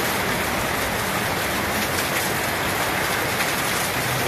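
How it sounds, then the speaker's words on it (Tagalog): Heavy rain pours down in a dense, steady roar with no letup, loud and close, falling hard on surfaces with no voices over it. "Grabe po lakas ng ulan"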